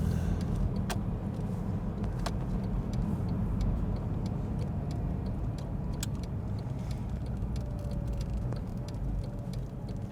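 A black 2009 Porsche 911 Turbo cruises in second gear, heard from inside as a steady, moderate engine and road drone with faint ticks and clicks.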